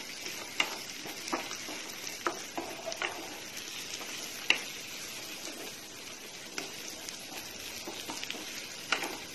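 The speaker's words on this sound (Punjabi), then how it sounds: "ਪਿਆਜ ਨੂੰ ਹਲਕਾ ਗੁਲਾਬੀ ਹੋਣ ਤੱਕ ਫਰਾਈ ਕਰਾਂਗੇ" Onions frying in a pan until light pink, a steady soft sizzle with occasional stirring clicks and scrapes, fairly quiet and close, no voices.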